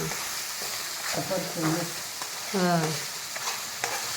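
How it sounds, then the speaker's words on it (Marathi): Ground masala stir-fried in oil in a pan, with a soft continuous sizzle and a few scraping stirring strokes near the microphone, with no voices over it. "चांगलं परतून घ्यायचं हां"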